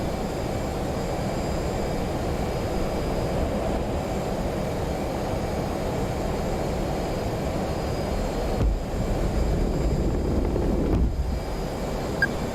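An F/A-18 jet catapulted off an aircraft carrier in DCS World roars with a steady, loud, continuous engine rumble, broken only by a couple of brief thumps near the end.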